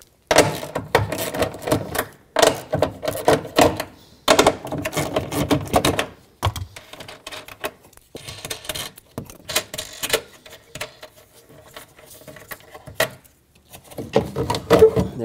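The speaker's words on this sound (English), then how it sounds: "let's get a 10 millimeter socket or wrench, whatever you have, and unbolt these three mounting nuts" Bursts of quick metallic clicking and ratcheting from a 10 mm socket wrench unbolting the three taillight mounting nuts on a 2003-2008 Toyota Corolla, close up, in irregular clusters with short quiet gaps between.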